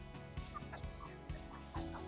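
Caged layer hens clucking in a poultry house, several short overlapping clucks in an uneven rhythm over a constant background hum, close and fairly loud with no talk.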